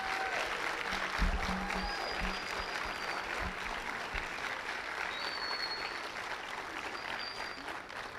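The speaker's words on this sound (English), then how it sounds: "let's give our performers another big round of applause" Dense, even applause from a school choir spring concert audience, fairly faint and sustained throughout, with no voices over it.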